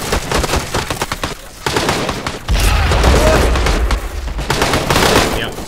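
Rapid gunfire and heavy booming blasts from LAW rocket launchers in a Vietnam War battle at Khe Sanh in a Medal of Honor game, continuous loud combat din with a big low-end surge midway and voices talking over it.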